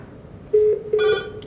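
An Avaya IP Office desk phone extension ringing: two short electronic rings in quick succession, close and clear over a quiet background, with no talk.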